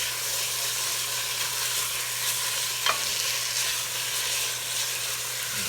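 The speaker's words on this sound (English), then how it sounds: "I'm going to just break up this venison sausage" Venison sausage sizzles in a pan as it is broken up and stirred, a constant loud frying hiss with one brief scrape of a utensil midway and a low steady hum beneath.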